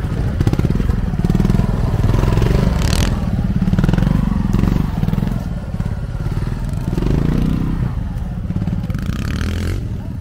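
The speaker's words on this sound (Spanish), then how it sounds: "Vamos a escuchar un poco la motocicleta." Classic trials motorcycle at a Madrid championship trial event, its engine running steadily and loud throughout with throttle surges and mechanical clatter, close by in an outdoor rocky setting.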